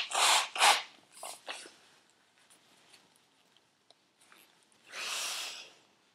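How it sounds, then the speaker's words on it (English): Someone blows their nose into a napkin in several close, breathy bursts: two strong blows at the start, a couple of smaller snorts, a quiet stretch, then a longer final blow. "I think I'm just going to blow my nose on it"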